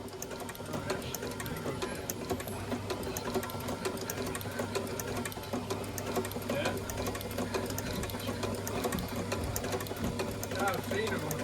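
A sewing machine stitches leather during repair of a cracked English brogue shoe, a fast continuous mechanical chatter with a steady low hum, while voices talk underneath.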